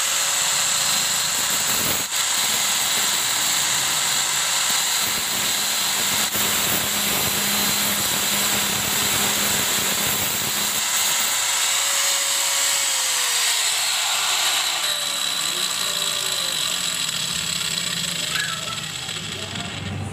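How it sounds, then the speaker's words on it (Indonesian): An angle grinder smooths a part for the CVT cover of a Honda scooter, giving a steady, loud whirring hiss that runs without a break and shifts pitch slightly partway through. "Oke, kita coba dulu ini dihalusin pakai gerinda ya."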